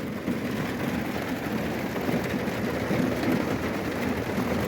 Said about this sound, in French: Voilà, ça pleut fort là.